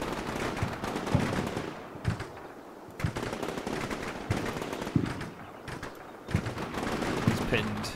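Sustained automatic weapons fire and explosions in the wargame Combat Mission Shock Force 2, with rattling machine-gun bursts and heavy thumps recurring through the whole stretch, and someone talking over the battle.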